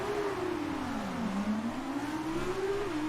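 A single-seater race car in the F1 2019 video game revs its engine, the pitch swooping down and then climbing steadily again as a continuous, fairly quiet engine whine with no talk.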